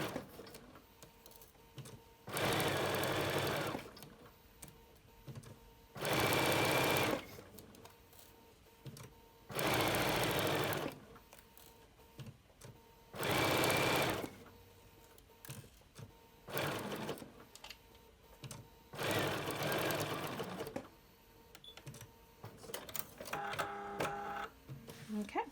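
A sewing machine stitches the side seams of a fabric reusable snack bag in several separate bursts of steady rapid whirring, close by, with quiet handling between runs.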